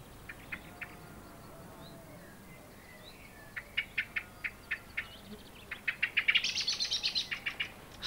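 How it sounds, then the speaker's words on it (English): Several blackbirds give sharp repeated chirps, scattered at first and then a quick rising burst of calls toward the end, with quiet outdoor background. "Suddenly, Father Blackbird began to make such a noise."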